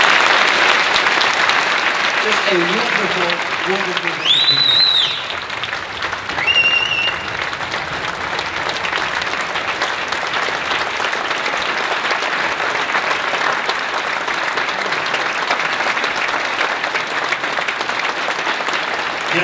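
Sustained applause from a theatre audience at a film premiere Q&A in Toronto, loud and continuous throughout with a short line of talk near the start.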